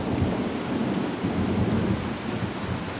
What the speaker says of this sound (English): The team cannot return under the intense rainstorm, and daylight is running short.